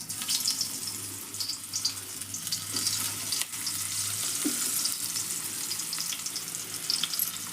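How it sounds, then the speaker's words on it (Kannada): Stuffed bitter gourds sizzle in hot oil, a continuous bubbling fry close up with a few soft clinks, no voices. "ಒಂದೊಂದು ಎಣ್ಣೆ ಒಳಗೆ ಹಾಕ್ತೇನೆ ನೋಡ್ರಿ."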